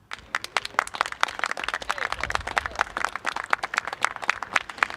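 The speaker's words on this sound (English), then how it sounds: "Let's give them a round of applause." An audience applauds at a Rover Challenge event, a steady run of many hands clapping at moderate loudness for the full five seconds, sharp overlapping claps with no voices over them.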